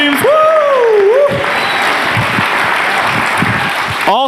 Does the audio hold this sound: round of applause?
yes